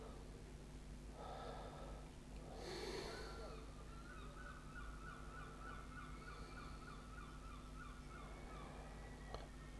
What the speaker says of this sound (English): I don't know if you can hear the seagulls because they're very noisy.